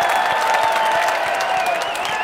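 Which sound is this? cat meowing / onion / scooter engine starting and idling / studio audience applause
studio audience applause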